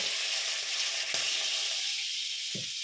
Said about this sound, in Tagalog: So, let's put the butter.